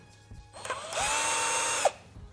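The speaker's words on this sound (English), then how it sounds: "You take your Phillips screwdriver or drill and you remove these 2 screws right here." A drill whirs steadily for about a second while removing two screws from the top fader plate of a full-size crossfader on a PT-01 Scratch portable turntable, with a brief pitch drop as the motor stops; close and alone.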